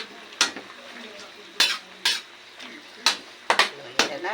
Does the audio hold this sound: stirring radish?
yes